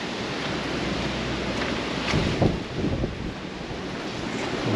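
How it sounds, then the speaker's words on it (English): Steady wind roars across the microphone outdoors beside a motorhome with a broad, rushing noise, swelling in gusts partway through, with no voices. "I don't think you'll hear me properly out here because it's that windy"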